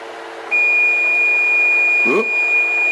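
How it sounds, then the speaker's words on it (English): A kitchen timer alarm sounds while taco filling simmers, a steady high-pitched electronic tone that starts after half a second and holds unbroken, with a brief vocal sound partway through. "I think the alarm's going to go off"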